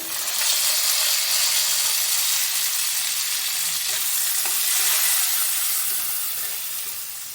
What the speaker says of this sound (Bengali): পেঁয়াজটা আমার ভাজা হয়ে গেছে। এর মধ্যে আমি টমেটো কুচিগুলো দিয়ে দিলাম